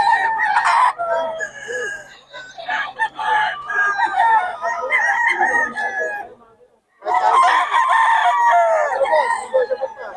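A bull stag rooster crows loudly and close by, in two long calls split by a brief silence, with some clucking from fowl underneath.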